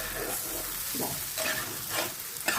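Prawns frying in a pan for a bread pakora filling, a steady broadband sizzle with several stirring scrapes of a utensil against the pan bottom, close and continuous.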